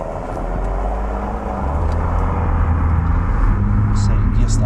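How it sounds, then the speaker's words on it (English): BMW M140i driving on the road, a steady low engine rumble and road noise from inside the cabin that grows slightly fuller partway through, continuous and moderately loud. "I think it's time to get this thing out on the road for a rip and see how it drives by today's standards."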